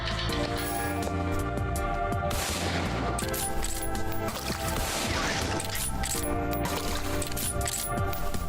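Bullets clattering onto the ground in the video game Beyond Citadel, a spill of small metallic clinks and taps layered over loud, dense game sound with gunfire-like hits throughout.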